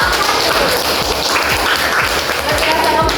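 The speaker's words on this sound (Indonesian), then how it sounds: "tepuk tangan untuk kelompok" Classroom applause for a student group, loud dense clapping from many hands throughout, with some voices mixed in beneath.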